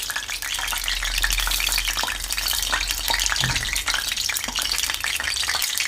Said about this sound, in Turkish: Hemen patlıcanları yağın içine bırakıyoruz. 2 dakika boyunca her tarafını kızartacağız.